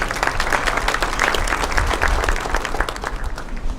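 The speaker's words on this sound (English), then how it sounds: "let's give these guys a big round of applause" Loud, dense applause from a large crowd at an electric cooperative's annual member meeting, greeting the board of directors with continuous overlapping claps that stay strong throughout.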